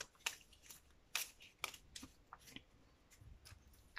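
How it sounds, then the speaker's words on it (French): A brand-new Lenormand card deck being shuffled by hand, giving a series of short, crisp riffling and slapping bursts at an uneven rhythm, close and fairly quiet, with no talking. "je mélange un petit peu vu que le jeu est tout neuf"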